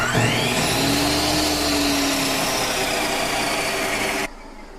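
A 10-inch Craftsman table saw motor runs at a steady, loud whine with a rising pitch as it spins up, then cuts off abruptly near the end, leaving quiet room noise.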